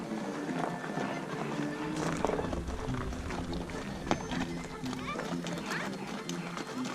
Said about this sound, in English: It's these little guys on their horses.